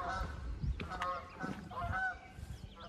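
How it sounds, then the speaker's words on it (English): Geese honk repeatedly near a rural covered-bridge crossing, a run of overlapping moderate calls over low background rumble. "what is going on with these geese?"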